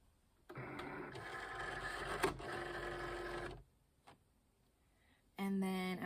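Cricut cutting machine loading a cutting mat, with a whirring motorized feed for a few seconds, a brief click, then a short rising electronic tone and mechanical hum.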